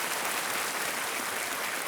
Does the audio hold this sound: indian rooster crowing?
no